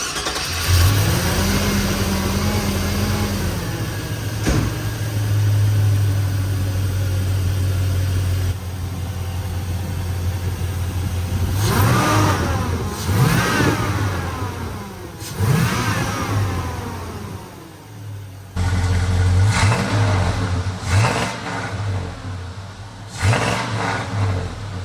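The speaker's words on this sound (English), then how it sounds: "we'll fire it up again, you know, rev it up a little bit, see what it sounds like." A 1977 Ford F150 with a swapped-in LS V8 runs loud and close, settling to a rough idle between several sharp revving bursts that climb and fall throughout.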